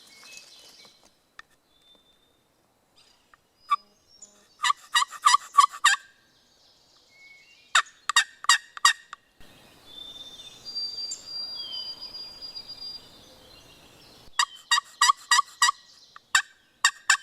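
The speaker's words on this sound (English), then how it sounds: "He's gobbling hard way down the ridge here." Wild turkey gobbling in bursts from somewhere down a ridge during a New Brunswick spring hunt, several rapid rattling calls spaced apart with quiet gaps and faint birdsong in between.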